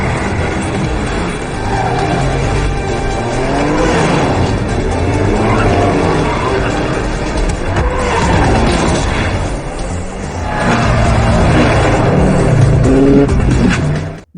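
Race cars, a Ferrari 458 and a Nissan GTR, roar through a film race scene, with a continuous loud engine drone, shifting pitch sweeps and occasional heavy booms under dense mixed soundtrack.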